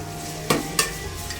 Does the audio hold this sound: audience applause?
no